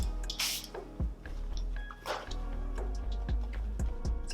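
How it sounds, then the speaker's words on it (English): Two short hissing spray bursts from a Charlotte Tilbury Airbrush setting spray mist bottle, a couple of seconds apart, over steady background music. "Gonna lock everything in with the Charlotte Tilbury Airbrush setting spray."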